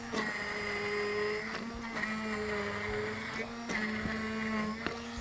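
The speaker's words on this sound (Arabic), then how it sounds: "نضرب الشوربة، سواء أنا هضربها بالهاند بلندر" A hand blender whirs steadily through cauliflower soup, its motor hum loud and continuous with brief dips and restarts in pitch as it blends, close by.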